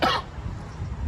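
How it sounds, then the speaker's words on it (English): A single sharp cough bursts out close to the mic after eating spicy chicken wings, then fades into a quiet, low room hum. "Every time I eat it, I keep coughing too."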